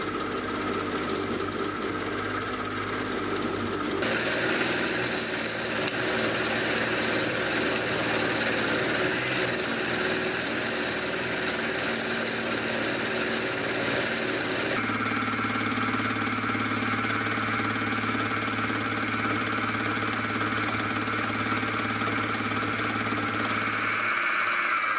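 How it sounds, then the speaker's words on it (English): Face mill on a milling machine cutting metal V blocks, a steady loud grinding whir with a harsh chattering edge, shifting tone partway through as the cut changes, no talking. "I'll do most of the metal removal with the regular face mill"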